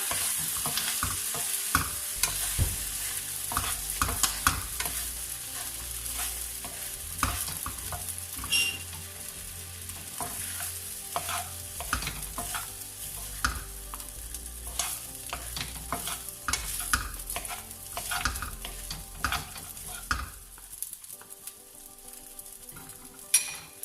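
Rice and vegetables fry and sizzle in a pan under steady, brisk stirring, with frequent scraping and clinking of a utensil against the pan throughout and no talking.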